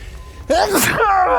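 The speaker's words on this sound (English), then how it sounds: "Oh my god, I've got to sneeze." A single loud, close human sneeze bursts out abruptly with a sharp explosive onset and then trails into a voiced tail.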